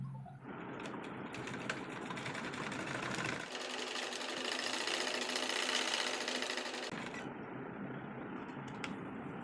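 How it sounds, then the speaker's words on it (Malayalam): Sewing machine topstitching lace along the front neckline of a collared kurti, running steadily and close with a brief louder, denser burst of stitching in the middle. "അങ്ങനെ ഫ്രണ്ട് നെക്ക് നമ്മൾ പതിച്ച് സ്റ്റിച്ച് ചെയ്ത് കൊടുത്തിട്ടുണ്ട്."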